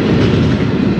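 A fast, mile-long train rolls down a grade, a loud, close, continuous rumble and roar of wheels on rails filling the short moment.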